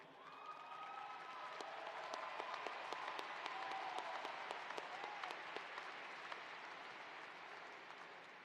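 Graduates and guests at a university commencement ceremony applaud in a large hall, a broad, continuous wash of clapping with a few sharper claps standing out and faint crowd noise underneath.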